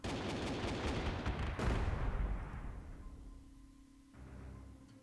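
Air strike on French troops in the WWII strategy game Panzer Corps 2, Norway invasion: a rattle of rapid gunfire, then a heavy blast that rolls away into a long fading rumble, with a softer thump near the end.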